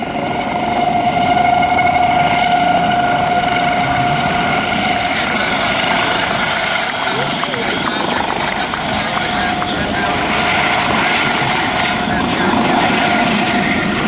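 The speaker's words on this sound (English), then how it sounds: "Our fighter, HH-65C Dauphin helicopter forward safe from Coast Guard Station, Atlantic City." Loud, steady thrumming roar of a Coast Guard HH-65C Dauphin helicopter close by at an airshow, its rotor and engine noise filling the whole stretch, with a voice faintly underneath.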